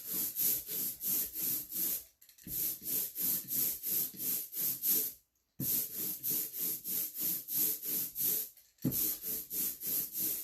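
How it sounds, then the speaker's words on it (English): Steady, rhythmic sizzling rasp of an ink roller worked back and forth on an inking plate, spreading ink thin, repeating in even strokes with two brief pauses, close and fairly loud. "can you hear that sizzle? That's the ink spreading out and getting thinner"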